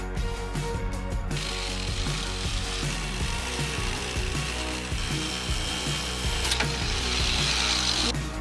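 Metal-cutting tools work through a rotten, crusty steel vehicle chassis at an off-grid homestead in Wales, giving repeated rasping, grinding strokes in an uneven rhythm, close and fairly loud.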